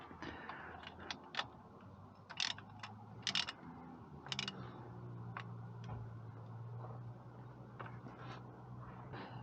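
A ratchet tightens the differential plug on a GMC Sierra, with scattered clicks and short ratcheting bursts over a low, steady hum in a quiet shop.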